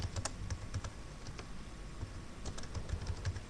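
Fast, steady typing on a computer keyboard, close and clear with crisp irregular key clicks and no voices.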